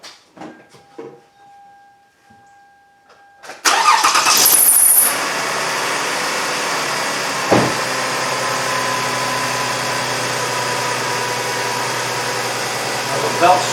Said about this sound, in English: We're going to start this thing up, hopefully.